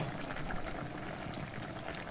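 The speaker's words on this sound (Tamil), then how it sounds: "இப்போ பாருங்கள், குழம்பு நல்லா கொதிச்சிருச்சு" Cauliflower gravy bubbles at a steady boil in a pot, a continuous close wash of soft popping and gurgling liquid with no voices over it.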